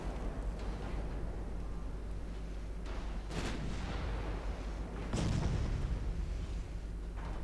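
Five-inch naval guns fire during an Ultimate Admiral Dreadnoughts sea battle, with two heavy booming salvos standing out over a constant low rumble of engines and distant gunfire.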